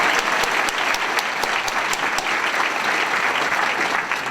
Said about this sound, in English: Give her a round of applause too.